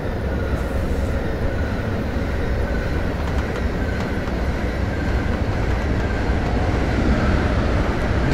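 Mat 64 electric train in Train Simulator 2017 pulling away on a Dutch line to Amsterdam, with a steady dense rumble and rail noise that holds at an even level throughout, without voices.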